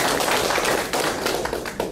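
A lecture audience gives a hearty round of applause, with thick, close clapping that fills two seconds at a fairly even loudness and no talk over it.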